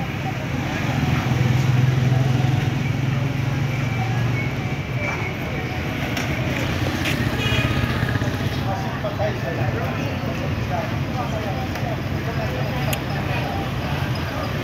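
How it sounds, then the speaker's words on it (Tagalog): Motorcycles rumble and buzz through a busy street in Jolo, Sulu, a steady mix of engine drone and passing traffic noise that swells slightly early on, with occasional horn-like tones and clatter. "Gulo itong mga motor."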